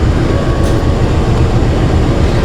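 A train rumbles past close by at a closed level crossing, a loud continuous roar of wheels and carriages with faint rattling, steady throughout.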